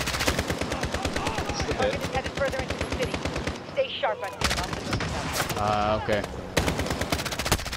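Rapid automatic gunfire in the co-op shooter Modern Warfare, loud close bursts of machine-gun rattle with short pauses, a couple of players talking over the shooting.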